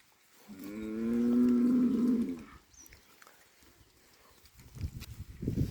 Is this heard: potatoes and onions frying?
no